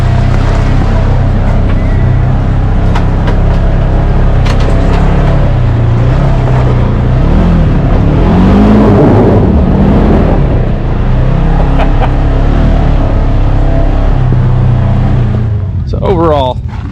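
A Polaris Ranger Crew Highlifter UTV engine climbs a hill with a steady droning rumble that rises and falls slightly, close and loud throughout, with a short clattering burst near the end.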